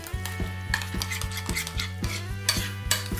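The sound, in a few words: stirring two sauces together in a bowl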